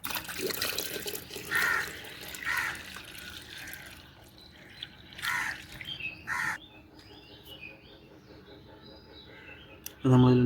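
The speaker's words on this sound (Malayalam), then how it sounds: "ഇവിടെ കുറച്ച് പാത്രത്തിൽ വെള്ളമുണ്ട്, ആ വെള്ളം ഒഴിക്കാമെന്ന് വെച്ചു." Water poured out of a vessel outdoors, splashing in short bursts separated by quiet gaps, with a louder splash at the end and faint birds in the background.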